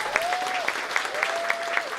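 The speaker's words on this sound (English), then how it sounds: "Give her a round of applause." An audience applauds at a community announcement event, with steady rhythmic clapping and a faint whistle rising and falling behind it, and no talking.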